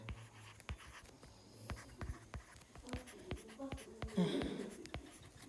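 Pencil or pen writing out a grade-five fractions math exercise by hand on paper, faint close scratching with small taps and strokes over a quiet room hiss.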